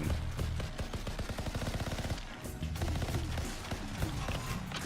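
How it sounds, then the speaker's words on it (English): Rapid automatic gunfire from a high rate-of-fire gun in the Anthem video game on PS4, a dense rattling burst of shots repeating steadily with a brief pause midway, moderately loud with no talk. "This rate of fire on this gun is great."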